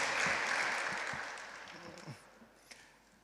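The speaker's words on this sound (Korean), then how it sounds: "여러분 다시 한번 박수로 한번 축복해 주시죠." A church congregation at a Sunday service claps in a brief burst that fades away within about two seconds, followed by a voice speaking.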